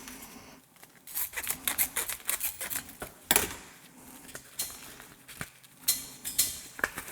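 Scissors snipping through a lithium trim cube, a run of sharp crisp cuts and crackles with irregular rhythm, close and fairly loud, no talking.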